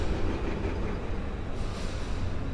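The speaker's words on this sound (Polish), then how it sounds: "Pociąg jedzie na tory postojowo-odstawcze." Train rolling slowly over a switch by platform four at Warszawa Zachodnia during a shunting move onto stabling sidings, a steady close rumble of wheels and wagons with a brief brighter swell partway through.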